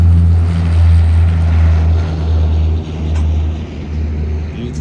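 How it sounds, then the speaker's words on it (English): Propeller-driven fixed-wing aircraft taking off at an airfield with an ATC tower, heard as a steady loud low engine drone and rumble that swells and eases slightly across the few seconds, with no talk. "Beautiful takeoff."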